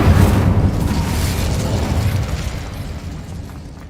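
Fiery blast spells going off in Hogwarts Legacy, a loud booming explosion that rumbles at first and then fades into a long, dull roar with no speech over it.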